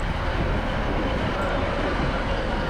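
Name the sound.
train departing Fort William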